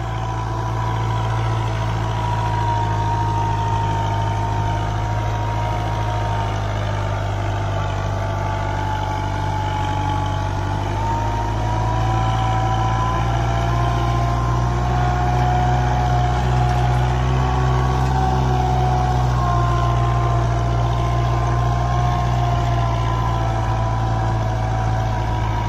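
A Kubota MU4501 tractor pulling a back harrow in a sandy field drones steadily and loudly throughout, its engine holding a constant throbbing hum with a slight rise in load partway through.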